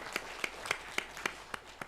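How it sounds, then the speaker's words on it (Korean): Church congregation clapping in thanks to the pastor during a Korean Sunday afternoon choir dedication service, heard as sharp, evenly spaced claps, about seven in two seconds, in a clear regular rhythm. "우리 박수로 우리 감사의 마음을 전하겠습니다."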